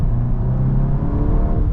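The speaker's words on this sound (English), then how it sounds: "Now it will also hit the rev limiter as well if you want it to." A VW Golf R MK8.5 Black Edition engine holds a loud, steady high-rev drone, sitting near the rev limiter with a slight wavering hum throughout and no voices over it.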